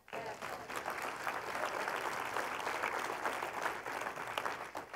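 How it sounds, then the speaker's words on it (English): A church congregation at a seniors' service breaks into full, steady hand clapping for several seconds, a dense wash of many hands that swells quickly and holds. "I think that deserves a hand clap."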